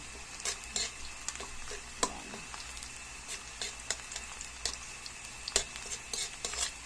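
Tomatoes sizzle in a pan while a utensil stirs and scrapes, with intermittent clinks and taps close by, and no talking.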